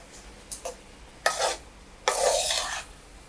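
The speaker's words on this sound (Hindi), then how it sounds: "अब मैं इसको अच्छे से मिक्स कर लूँगी।" Sweet zarda rice is mixed in a pot over low-medium heat, with a few short scraping strokes followed by a longer, louder stir and a sizzling rustle, close up with no talking.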